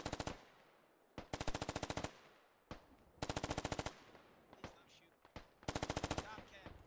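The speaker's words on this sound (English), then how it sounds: "They're firing into the town." Bursts of automatic gunfire in the military shooter game Squad, several rapid rhythmic volleys separated by short gaps, loud and close, with faint background battle noise and no talking.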